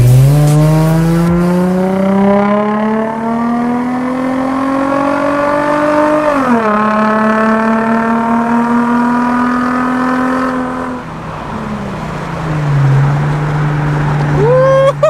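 A loud, raw Infiniti G35 exhaust with the muffler deleted and test pipes fitted, revving up and holding high, the engine note rising and falling over several seconds, close and roaring with no muffling.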